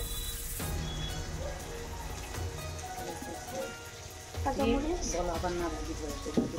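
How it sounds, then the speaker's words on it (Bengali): Green chilies frying in a pan with capsicum for a noodle dish, a steady close sizzle with scraping stirs and utensil knocks, while a voice speaks over the cooking. "এখন হচ্ছে আমরা কাঁচামরিচ দিয়ে দিব সাথে করে"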